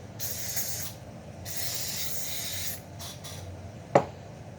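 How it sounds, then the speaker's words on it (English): Wet sunscreen spray hisses onto skin in two long bursts followed by a couple of short puffs, close and clear, ending with a sharp click from the can. "it is a wet spray that I'm spraying on my body"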